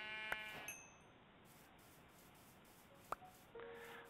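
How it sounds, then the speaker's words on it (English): A Minecraft sheep bleats twice, short wavering cries spaced a few seconds apart, over a quiet game background with faint footsteps and small interface clicks, no talking. "There's a sheep over here."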